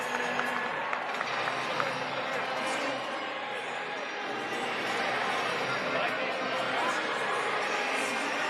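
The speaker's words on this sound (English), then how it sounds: "Give yourselves a round of applause." Crowd at a Savannah Bananas baseball game at PNC Park in Pittsburgh claps and cheers, a broad sustained wash of applause and chatter at moderate distance with a voice over the crowd.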